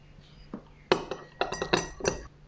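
A metal spoon clinks against a glass of water as spoonfuls of sugar are stirred in. Close, bright taps come in quick irregular bunches, about half a dozen strikes in all, over a quiet room.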